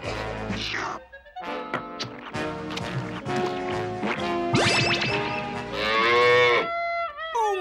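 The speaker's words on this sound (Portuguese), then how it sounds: "Uma vaca!" A cartoon cow in a Smurfs episode lets out several loud, drawn-out moos that rise and bend in pitch, set against lively background music with no talking.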